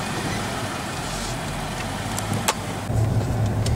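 A car leaves a house, heard from inside as a steady low engine rumble and road noise, with a brief clunk and a slight rise in engine level toward the end, no voices.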